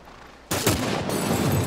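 Gunfire in The Last of Us Part 1 erupts suddenly after a quiet moment, a loud shot followed by a dense ringing burst and sustained rattling fire.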